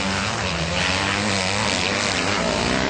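Kawasaki KX250F dirt bike engine running hard, a loud continuous buzzing drone that holds steady for three seconds without a pause.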